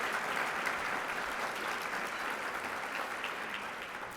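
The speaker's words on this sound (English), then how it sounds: "Can we get a round of applause for the folks who are feeding and serving us?" An audience at a Latino Leaders luncheon applauds, giving dense, steady clapping that fills the room. It holds evenly from start to finish, with no talk over it.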